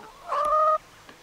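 A single short, nasal cluck-squawk from a hen near a custom-built triangular chicken coop, close and clear over a quiet yard, followed by a faint tap.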